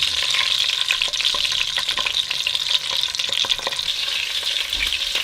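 Sweet Italian sausage browns in a pan for a bolognese sauce, giving a loud, close, constant sizzle with bursts of spattering and brief scraping clicks, and no voices.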